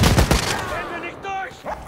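Heavy automatic big gun firing in Wolfenstein: Youngblood, dense loud bursts in the opening half-second that fade into rumbling echoes, with a voice heard near the end.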